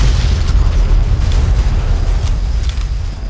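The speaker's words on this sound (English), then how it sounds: "I think I'll just end this episode with one car explosion, if this car can explode." A car blows up in Fallout 3, a loud continuous rumbling boom that fills the whole stretch with dense low-end roar and crackle, no talking over it.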